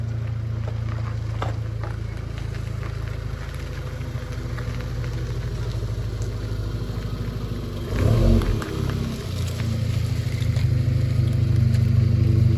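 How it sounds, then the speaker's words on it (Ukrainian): A Volkswagen Golf 6 GTI with a new engine rolls across a yard pothole, its engine droning steadily, then a brief heavy thump and rattle as the low car dips through the hole before the hum resumes. "Хоч і гольфік низенький, але по ямках він непогано їде"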